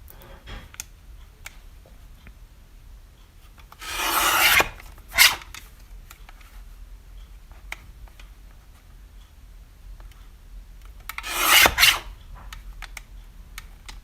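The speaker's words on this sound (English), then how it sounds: "Some like washi tape kind of elements here. So I'll trim those." Scissors trim washi tape paper elements in two short bursts of close, crisp snipping and rasping, separated by quiet stretches with faint ticks, and no talking.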